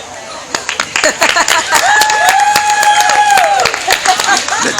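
A crowd applauds an award acceptance at Cleveland Pagan Pride, the crisp clapping loud and close, with a sustained whistle or whoop riding over it midway and voices mixed in.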